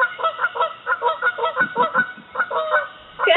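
Geese honk loudly and close by, a rapid run of harsh, rhythmic calls that repeat throughout with only brief gaps.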